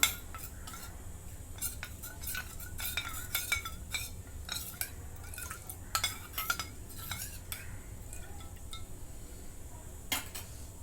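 Milk is stirred into a half spoon of cornflour in a bowl, with a spoon tapping and scraping against the sides in light, irregular clinks over a steady low background hum, close but quiet, without speech.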